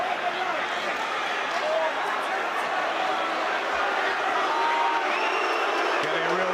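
Boxing arena crowd during a rough fight, a steady roar of cheering and rallying voices filling the space, loud and continuous, with scattered whoops and commentary voices under it.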